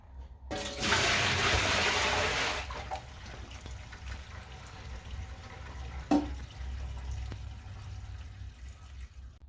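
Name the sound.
bucket of water poured down a leaking laundry tub sink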